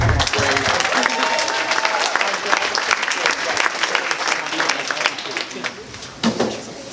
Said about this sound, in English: Now give a round of applause to all of our.